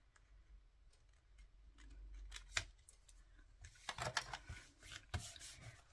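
Scissors snip through paper while a vintage-style Z-fold Christmas card is being made, a few quiet, uneven cuts and rustles that grow busier toward the end, close by with no talk.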